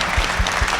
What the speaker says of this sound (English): Can you give them a big round of applause, everybody?